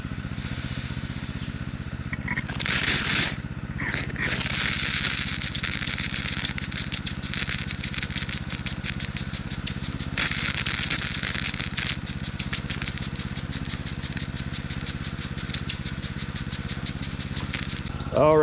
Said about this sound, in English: So let's go ahead and let's turn on the pump